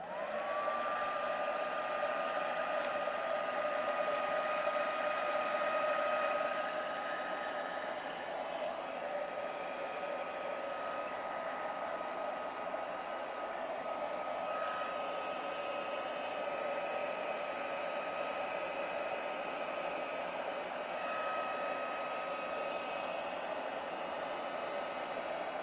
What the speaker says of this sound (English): I'm just going to blast it a bit with my heat gun.